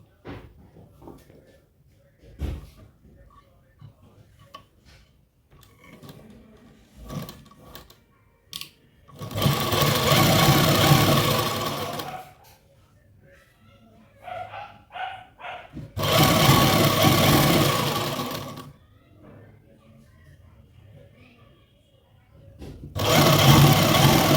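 An electric sewing machine stitches lace onto palazzo pants in loud, close bursts of rapid whirring, with quiet handling and rustling of fabric in the gaps between runs.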